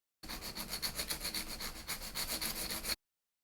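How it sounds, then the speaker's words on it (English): A nail file blending an artificial nail tip into the natural nail during a manicure, quick, rhythmic scratchy rasping strokes, close and fairly soft, running for about three seconds before stopping. "you are ready to blend the nail tip to the natural nail using your nail file"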